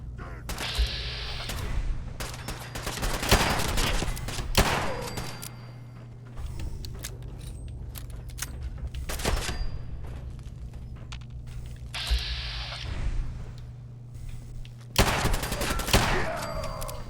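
Heavy .44 revolver shots in the Fallout 4 video game, a few loud cracks spread irregularly across a stretch of other gunfire and game noise.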